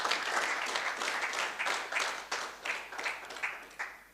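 Applause for the Nigerian Navy at a formal maritime security event, a dense, steady patter of many hands clapping throughout, moderately loud and fading in and out in waves.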